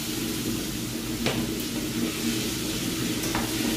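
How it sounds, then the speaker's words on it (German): Steady sizzling of washed rice frying in a pan, a constant crackling hiss with a couple of faint clinks, no talking. "Ein bisschen mit anbraten hier."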